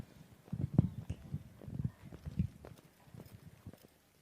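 Hooves of maiden campdraft horses clip-clop at a steady walking pace at a rural show, a loose, uneven rhythm of many thuds fairly close by, with no voices.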